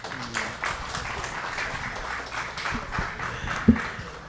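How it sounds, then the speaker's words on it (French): An audience applauds a psychologist speaker at a philosophy café gathering, a modest, fairly quiet patter of many hands with one sharper clap standing out near the end. "Merci de l'applaudir."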